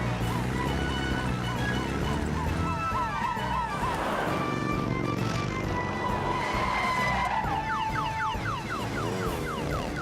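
A runaway car in the Fireman Sam cartoon speeds along with a loud, continuous engine roar, squealing tires and cartoon sound effects under a dense musical score.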